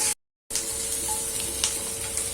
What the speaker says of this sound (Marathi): आता आपण कांदा गोल्डन करतोय, चांगला परतवायचा आहे